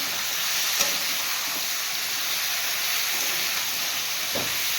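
Carrots go into a hot pan for a winter duck egg curry, giving a steady close sizzle and hiss of frying with a couple of faint knocks of stirring.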